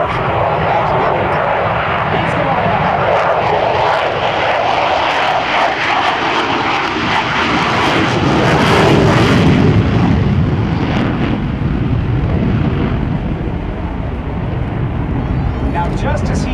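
F/A-18F Super Hornet twin jet engines spooling up as the throttles are shoved forward, a loud sustained roar building in intensity around the middle and holding steady throughout.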